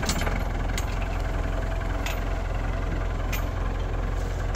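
A 60-year-old tractor on a farm in Sweden runs while being driven, its engine a loud, close, steady rumbling chug with rhythmic knocking pulses, heard alone throughout.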